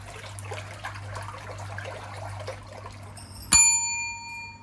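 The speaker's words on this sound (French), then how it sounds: "Mon petit cloche de cuisine, bien évidemment" A small kitchen bell gives a single sharp ding that rings out and fades, following a stretch of faint trickling water and low hum aboard a fishing boat at sea off Réunion.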